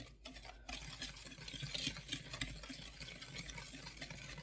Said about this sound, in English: Then you whisk it together really good.